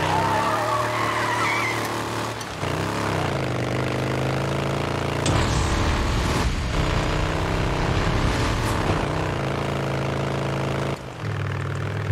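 Motorcycle engine in the zombie survival video game Days Gone, a steady loud droning rumble with shifting revs running throughout, a sharp change in tone midway and a brief dip near the end.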